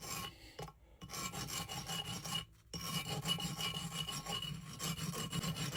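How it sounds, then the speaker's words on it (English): A hand file rasps across mushroomed valve stem ends on a Jaguar Mk4 cylinder head, close and steady back-and-forth strokes in quick rhythm, pausing twice briefly before resuming. "we'll just stone or use a file to take the ridge off the end here, because they're just mushroomed"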